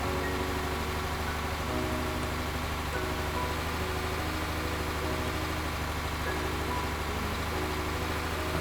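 A fueled-up tractor idling in a zombie survival game, a steady, dense low engine rumble that holds constant throughout with no break or voice over it.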